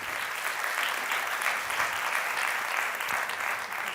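Applause from the audience at a public assembly of young entrepreneurs in Venice and Rovigo, a steady, moderately distant wash of many hands clapping in a hall.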